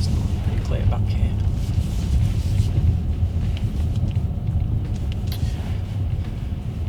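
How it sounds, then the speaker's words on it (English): Low rumbling car engine and road noise as a car drives slowly and pulls into a parking space, steady throughout with wind buffeting, no clear talk. "Let's get parked up here now."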